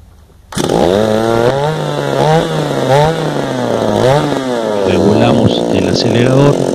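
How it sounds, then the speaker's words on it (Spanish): A gasoline brush cutter engine running after a carburetor repair, starting abruptly and then buzzing loud and close with a high two-stroke whine that rises and falls as the throttle changes. "Ahora arrancamos el motor."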